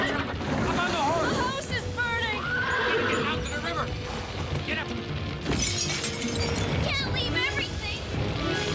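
Horse neighing during a barn fire, several loud whinnies amid crashing and shattering debris and hoof clatter, with people shouting over the chaos.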